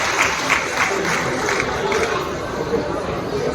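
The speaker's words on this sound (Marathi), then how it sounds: "सर्व कारसेवकांसाठी जोरदार टाळ्या वाजवायच्या आहेत सगळ्यांनी" A crowd claps for the kar sevaks at a Shri Ram akshata and kalash puja ceremony in Shirdi, a steady patter of applause mixed with murmuring voices throughout.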